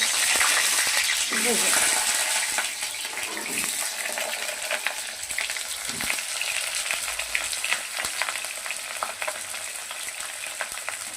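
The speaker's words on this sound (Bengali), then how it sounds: "এই যে আমার তেল গরম হয়ে গেছে, আমি তেলের মধ্যে ছেড়ে দেবো।" Large-cut potato pieces dropped into hot oil, giving a continuous loud sizzle and crackle with occasional stirring clinks, steady throughout.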